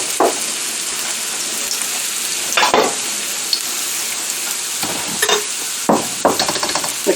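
Chopped carrots sizzle and fry in a pan for fried rice, a steady loud crackle broken by sharp scraping stirs every second or so.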